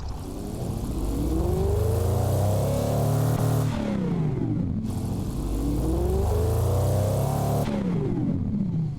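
A huge low-RPM engine in a rear-wheel-drive car in a video game, limited to 500 kilowatts, revs loud and continuous, its deep note rising and falling through two long sweeps with a brief gear-change dip between them.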